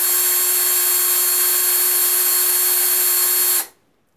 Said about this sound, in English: put it on the slower speed, preferably for using for screws and screwing or unscrewing.